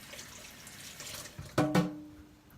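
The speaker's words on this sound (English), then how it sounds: "Rinse my hands off." Hands rinsed under a running sink tap while making peanut butter cookies, a soft water stream that builds into a brief louder splash and gurgle before fading.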